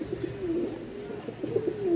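Several large English Nun pigeons coo in low, wavering phrases, one rolling call followed by another toward the end, close and fairly steady against a soft background.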